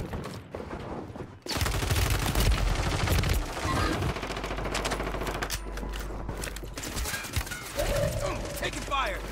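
Gunfire in the Warzone video game rattles in dense, sustained bursts of rapid shots, loud and close, with clattering mechanical noise and brief voices mixed in.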